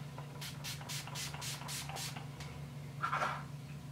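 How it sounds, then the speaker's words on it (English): Urban Decay All Nighter makeup setting spray misted in a quick series of about seven short, soft hissing pumps, then a brief faint rustle, all close but quiet over low background hum. "I am going to go in with my Urban Decay Slay All Day All Nighter setting spray."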